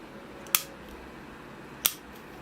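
Cutters snipping through a jade bonsai branch: two crisp, close clicks about a second and a half apart over a quiet room.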